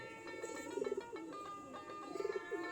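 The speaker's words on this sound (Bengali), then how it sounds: "কবুতরগুলা খোপের মাঝে ডাকাডাকি করতেছে শুনতে অনেক ভালো লাগে" Pigeons coo softly inside their coop in low, rolling bursts, a couple of rounds of throaty calls, fairly quiet and close, with faint chirps behind.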